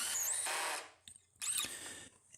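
A power drill drives wood screws through deck boards being fixed inside an enclosed cargo trailer camper conversion, giving two loud, close bursts of whirring with a short pause and a few small knocks between them.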